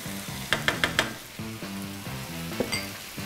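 Onions fry in a pan with a soft sizzle, a quick run of sharp utensil clicks and a later tap, while a melodic tune plays in the background.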